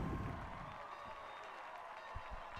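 A high school varsity football crowd applauds and cheers after an interception returned for a touchdown. The roar is loudest at first, then settles into a fainter, distant wash under the announcer's voice.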